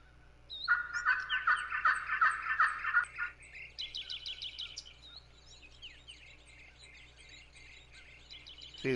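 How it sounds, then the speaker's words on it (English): A wild turkey gobbles outdoors, a loud rattling burst followed by a second shorter gobble, with other birds calling faintly around it in an open field. "There's a turkey in the area too."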